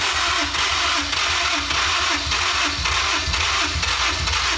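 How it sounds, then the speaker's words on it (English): A Honda S2000 engine being rebuilt after a wreck cranks on its starter, trying to catch: a loud, steady run of rhythmic chugging pulses that continues without a break and never settles into a clear idle. "It sounded like it wanted to crank over."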